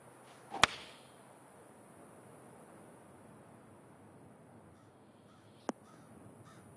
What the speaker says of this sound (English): Crows are cawing at me.